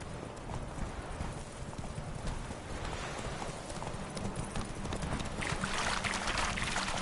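Horse hooves clip-clop at a steady trot in The Witcher video game, a rhythmic run of close, moderately loud hoofbeats over a soft ambient bed that persists throughout.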